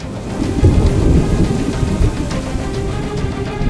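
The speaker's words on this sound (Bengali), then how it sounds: "ঠিক তখনই শুরু হলো মুষলধারে বৃষ্টি।" Heavy rain pours steadily while deep thunder rumbles low underneath, a dense continuous roar with no voices.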